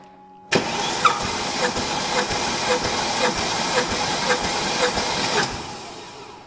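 A 1999 Mercedes ML430 petrol engine cranks on the starter during a compression test, a loud rhythmic churning with hissing that runs steadily for about five seconds, then stops.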